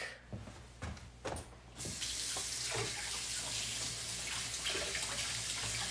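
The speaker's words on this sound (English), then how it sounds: "Give it a good rinse." Tap water runs into a sink as hands are rinsed during a manicure, starting with a few intermittent splashes before a steady, close, hissing stream takes over.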